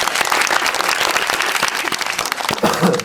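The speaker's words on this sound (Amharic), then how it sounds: "አሁንም በድጋሚ እስቲ አጨብጭቡልኝ።" Sustained audience applause at a celebration, many hands clapping densely and steadily throughout, loud and close with no pauses.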